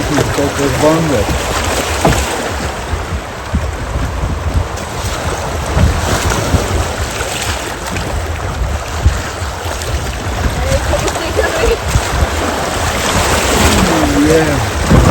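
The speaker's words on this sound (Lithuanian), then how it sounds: "Kokios bangos." River waves splash and rush steadily around a kayak while rafting, with heavy wind buffeting and voices talking over the churning water.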